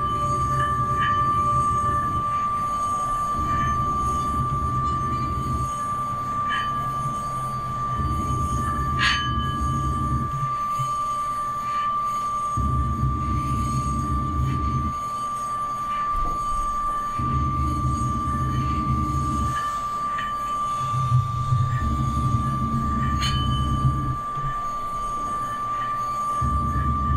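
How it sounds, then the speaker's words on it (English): A singing bowl holds a steady drone on D, a bright sustained ring, while a low hummed voice swells in and out in repeated phrases beneath it, with no EQ applied. "That's the sound of the bowl and my voice without any EQ."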